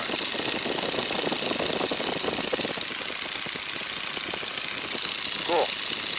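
A Stearman biplane's radial engine drones steadily in flight at 1800 RPM during a climb, a loud continuous rumble with a rough, knocking texture filling the whole stretch.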